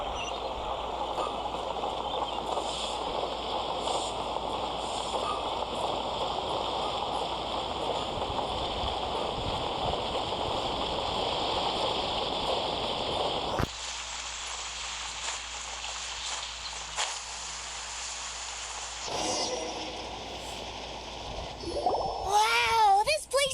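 Harbor waves in Genshin Impact's Liyue Harbor wash as a steady dense rush, broken by a shift to a quieter, thinner ambience midway before the surf returns, with game sounds at the end.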